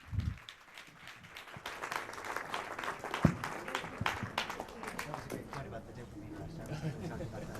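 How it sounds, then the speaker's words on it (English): An audience claps after a book talk, the applause starting sparse and building into a dense, fairly close patter, with some talk and movement mixed in. "a round of applause"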